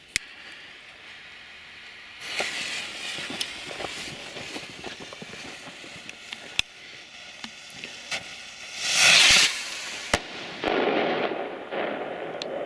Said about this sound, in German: Richtig schön druckvoll, richtig geil. Nico Burst Rakete.